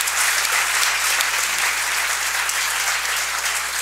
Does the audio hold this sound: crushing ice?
no